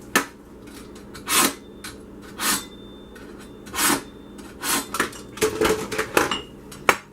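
A kitchen knife drawn through a small Shark sharpener, giving a series of short metallic scraping strokes, about ten in all, irregularly spaced and fairly close, with no talking.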